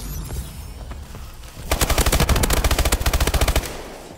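Automatic weapon fire in a futuristic Call of Duty-style multiplayer match: a quiet opening gives way to a loud, close burst of rapid shots in a fast, even rhythm lasting about two seconds.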